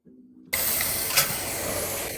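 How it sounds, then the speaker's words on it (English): Chuck steak hits a hot barbecue grill with a sudden loud sizzle that settles into a steady, close hiss of searing fat, preceded by a brief low rumble. "Hear that sizzle?"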